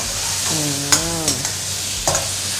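Rice vermicelli with tofu and water mimosa sizzles steadily as it is stir-fried in a hot wok while a utensil scrapes and clanks against the pan a few times.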